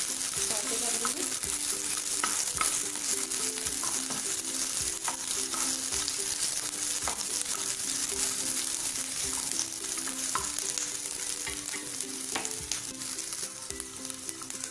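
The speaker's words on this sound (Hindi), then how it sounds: "इनको भी अच्छी तरह से सौते कर लेंगे" Red and green capsicum sauté in a hot pan for bread veg chilli manchurian, sizzling loudly and continuously with frequent scraping stirs of a spoon, close up and without talk.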